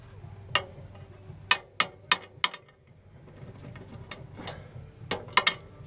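Sharp metal knocks on a stuck bolt in a snow plow cutting edge, struck in an uneven series of close, loud hits with short pauses between them.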